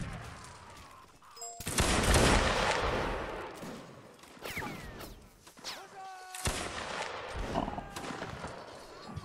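Musket volleys in a Napoleonic Wars line battle video game crack out in two loud, broad bursts several seconds apart. Scattered single shots and horse hooves and whinnies sound between them, with no talk.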